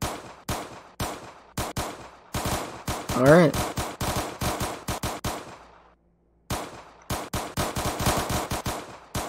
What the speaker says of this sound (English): These gunshots are driving me nuts.